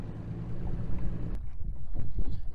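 Wind buffets the microphone over a fishing boat on a lake, a steady rush giving way to gusty, low thumping.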